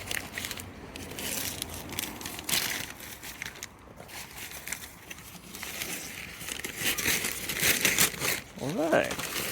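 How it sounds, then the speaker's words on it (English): Gold vinyl wrap is peeled off the body of a Mitsubishi GTO, giving continuous close crinkling and tearing rustles that swell and fade over several seconds. "Some people enjoy this peeling process"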